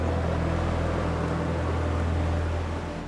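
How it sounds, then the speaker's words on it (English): A boat engine drones in a steady, low roar, heavy and continuous with a noisy rushing layer on top, holding constant throughout. "I heard the roar of a boat again. Getting louder."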